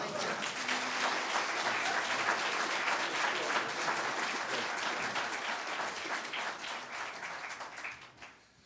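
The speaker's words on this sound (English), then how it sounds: "Let's give Brother Ralph and Sister Pam another warm round of applause" A mosque congregation at a dedication gathering breaks into sustained applause, a dense roar of clapping with a few voices mixed in that tapers off near the end.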